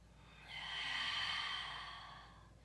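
A single slow, deep exhale during a meditation stretch. The breath swells softly, peaks, then fades out over a couple of seconds. It is close and quiet, with no talking.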